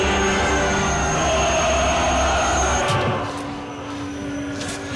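A moving passenger train heard from inside a thriller film, a loud steady rumble of wheels on rails with faint squeals and clatter, easing lower and quieter partway through, with no talk.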